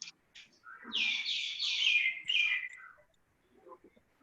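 Birds chirp and tweet near a student's home, picked up through an open microphone during an online class. A bright, fairly close run of rapid chirps lasts about two seconds, then a few faint calls follow.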